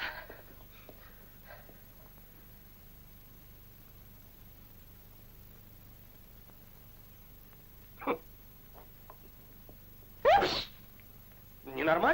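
One sharp, close sneeze bursts out in a quiet scene from a 1965 Soviet film, following faint, scattered vocal sounds and a few soft shorter bursts.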